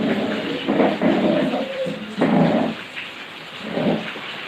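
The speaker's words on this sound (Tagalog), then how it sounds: "ang lakas ng ulan, ang lakas pa ng hangin" Heavy rain pours steadily with strong wind gusting during a storm in Santa Maria, Pangasinan, a constant broadband wash broken by louder rumbling surges.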